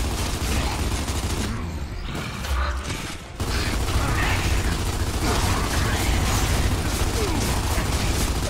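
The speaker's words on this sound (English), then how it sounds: "That front's opening the floodgates!" Floodgates grind open in the video game Gears of War 2 with a dense, continuous mechanical rumble and ratcheting clatter that dips briefly and then surges back at steady, loud intensity.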